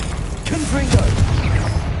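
Confringo blasting spell in a Hogwarts video game, a short burst of booming explosions with rumbling pops tangled with a shouted voice and crackling magical effects.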